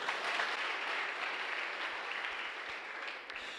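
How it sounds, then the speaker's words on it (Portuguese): A church congregation at a Wednesday evening service applauds steadily, a dense wash of many hands clapping together at a fairly even level, tapering slightly toward the end. "Você pode aplaudir ao Senhor?"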